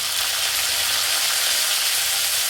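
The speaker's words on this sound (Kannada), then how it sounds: "ಅದೇ ಎಣ್ಣೆಗೆ 1 ಸ್ಪೂನಷ್ಟು ಸಾಸಿವೆ ಸೇರಿಸ್ತಾ ಇದ್ದೀನಿ. ಹಾಗೆ ಕರಿಬೇವು ಸೇರಿಸ್ತಾ ಇದ್ದೀನಿ." Mustard seeds and curry leaves sizzling in a little leftover hot oil while preparing stuffed capsicum, a steady, bright, continuous frying hiss heard close up with no talking.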